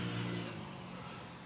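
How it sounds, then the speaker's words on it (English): Road traffic heard through the wound-down window of a 2026 Tesla Model Y Juniper Performance on a UK test drive: a steady, fairly loud broadband rumble and wind wash from passing cars, easing slightly, with no talking. "I'm going to wind the window down just so you can hear the traffic noise"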